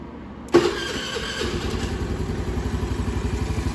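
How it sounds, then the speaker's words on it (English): A Honda Navi 110 motorbike engine cranks and catches with a sharp burst, then settles into a steady, close idle with a pulsing rhythm and some mechanical clatter. "we'll go ahead and start this guy"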